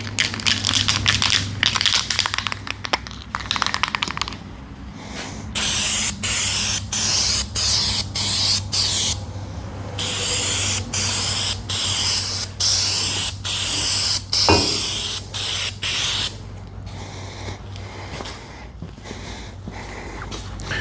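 Bursts of spray from a paint spray gun as a second coat goes on, long hissing passes broken by short pauses, close and loud over a steady low hum, with no talking.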